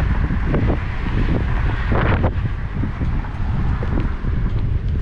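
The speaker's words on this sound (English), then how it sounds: "And we're bucking a headwind." A headwind buffets the microphone while cycling along the Overseas Highway bike path in the Florida Keys, a loud, continuous rumbling gust noise throughout with no talk.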